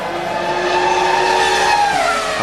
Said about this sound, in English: We're watching Heinz-Harald Frentzen on track currently